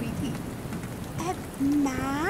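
Heavy cartoon rain pours as a steady wash of noise in an animated Hindi story, with a voice and a rising whine or cry breaking through near the end.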